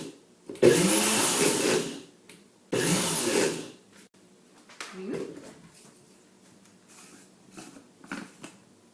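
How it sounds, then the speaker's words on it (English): Two loud bursts of a bullet blender whirring, each lasting about a second, followed by quieter clattering and handling noises. "Bring my bullet blender back."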